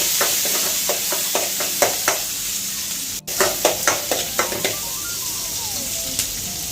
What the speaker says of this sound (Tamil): அதுலேயே இந்த வெங்காயத்தையும் ஒரு 10 வெங்காயம் போட்டு அதையும் போட்டு சாட்டே பண்ணிக்கோங்க